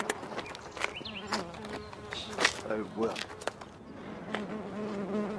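A hornet buzzes in bursts that come and go, close and fairly loud at moments, while a man mutters and exclaims over it.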